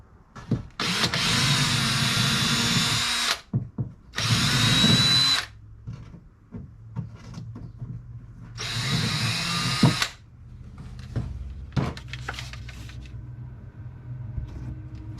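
A power drill bores holes into a kayak hull, with three loud, high whining bursts of a few seconds each separated by quiet handling noises, clicks and light knocks, recorded close up.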